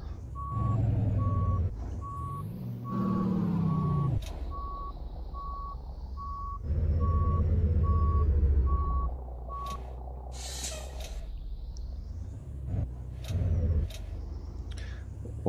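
A Volvo 9400 series semi truck in American Truck Simulator sounds repeated reversing beeps in an even pattern, with engine rumble and sharp air brake hisses around them; no talking.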